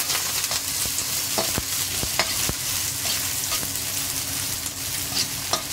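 Green tomato is stirred in a sizzling frying pan, the steady frying hiss broken by repeated sharp scrapes and clacks of the utensil against the pan.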